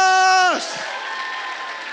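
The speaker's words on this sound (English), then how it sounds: "Give yourselves a round of applause." A voice holds a loud sung note that drops off, then a crowd at a keynote speech claps and cheers in a steady wash of applause.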